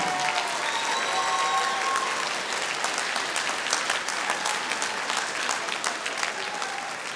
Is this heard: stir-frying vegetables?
no